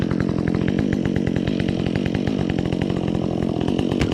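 A Husqvarna chainsaw with a new chain runs steadily, with a continuous, rapidly pulsing engine drone, loud and close, while cutting a tree for firewood.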